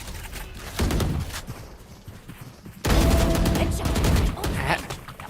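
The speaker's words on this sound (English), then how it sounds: "headshots from Nari" Rapid bursts of gunfire and headshots ring out in a competitive shooter game's grand finals match, with clusters of sharp shots and a louder volley partway through, under crowd and caster noise.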